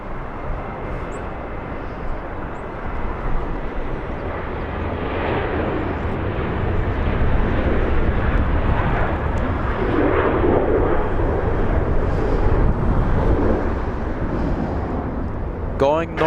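A Southwest Boeing 737-800 airliner takes off at Los Angeles International Airport, a deep rumbling jet roar that swells and holds loud, heard from a distance with a voice talking over it.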